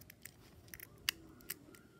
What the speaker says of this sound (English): So you can flip the switch.